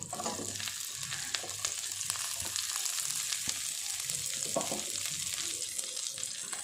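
Large-cut onions frying with capsicum for a paneer masala, a steady close sizzle with scraping stir sounds throughout and no talking.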